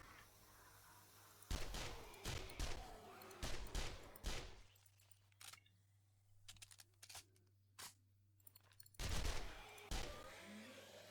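Gunfire in the 7 Days to Die video game inside a custom Doune Castle map, several loud bursts of shots separated by quieter gaps, with a low steady hum underneath.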